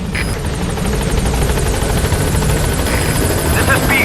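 A helicopter arriving at a landing zone in the video game Metal Gear Solid V, its rotor chop and turbine whine loud, steady and close for the whole stretch.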